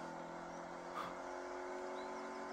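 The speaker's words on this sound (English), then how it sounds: "Very nice drifts." A car drifting in Saints Row, a steady droning engine hum with a faint tire whine and one small swell near the start, heard alone at low level.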